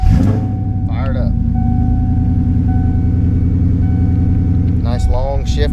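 A Ford Coyote V8 swapped into a manual wagon idles loud and close with a steady deep rumble, with someone talking over it at the start and again near the end.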